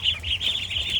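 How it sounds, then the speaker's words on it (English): A flock of ducks on a rural Vietnamese pond quacks excitedly and continuously as feeding time nears, a busy, near chorus of overlapping calls with no talking. "The moment they hear me open the shed door, they begin quacking excitedly."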